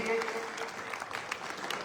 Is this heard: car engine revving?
no